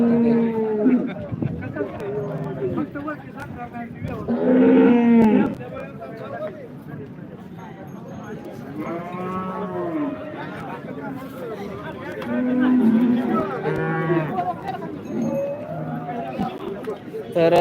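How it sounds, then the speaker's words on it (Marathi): Cows mooing at a cattle market, several drawn-out low calls rising over loud crowd chatter and someone talking nearby. "आज ब्रीडची गाय आलेली आहे एबीची गाय आहे"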